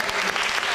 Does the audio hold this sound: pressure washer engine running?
no